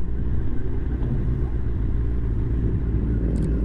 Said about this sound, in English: A few bikes around.